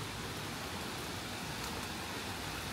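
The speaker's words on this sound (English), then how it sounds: "It is raining" Rain coming down as tropical storm Debby arrives, a dense, unbroken hiss of falling water that fills the scene evenly from start to finish, with no talk over it.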